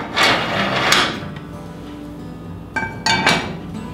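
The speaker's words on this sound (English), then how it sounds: "Our restocking has caught fire, so now we're ready to close our oven damper" Metal damper on a wood cook stove's oven being shut: a couple of sharp metallic scrapes and clanks, then a quieter lull before two more clinks of iron on iron close by.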